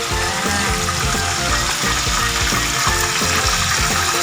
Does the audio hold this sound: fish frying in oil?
yes